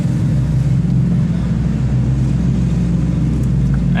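A car crawls through Monaco traffic behind a Porsche Macan, a steady low engine and road rumble heard from inside the cabin, loud and unbroken throughout.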